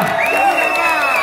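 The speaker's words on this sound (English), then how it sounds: "give them a warm round of applause" A concert crowd at a live show of Italian acoustic music cheers with high, sustained whoops and shouts over scattered clapping, loud and close for a brief moment.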